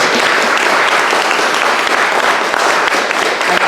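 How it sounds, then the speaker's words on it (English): A roomful of people clapping in thanks after a lecture on the granges of Durham Cathedral Priory, a loud, dense and unbroken patter that continues at full strength from start to finish. "So perhaps if we could give Martin perhaps another round of applause."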